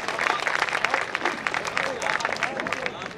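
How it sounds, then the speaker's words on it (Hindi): Audience at a Hindi poetry recital (kavi sammelan) breaks into steady applause, a dense continuous clatter of many clapping hands filling a hall for several seconds without a pause. "मैं चाहता हूँ तालियां एक बार पूरा सदन मिलकर भरपूर बजाए"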